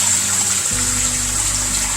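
Water pours steadily out of a home water filtration system at a kitchen sink, a continuous close hiss and trickle with a low gurgle that deepens partway through.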